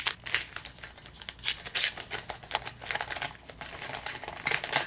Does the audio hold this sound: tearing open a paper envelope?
yes